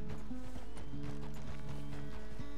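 Horse hooves clip-clop steadily in a Red Dead Redemption 2 ride, loud and continuous over a dense game soundscape with faint snorts.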